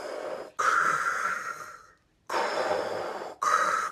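A person imitates heavy phone breathing with three loud, close, raspy wheezing breaths, separated by short silences, and no speech.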